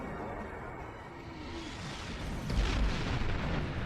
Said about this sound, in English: The heralds are firing on the portal!